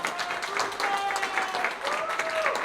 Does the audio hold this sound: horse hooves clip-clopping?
no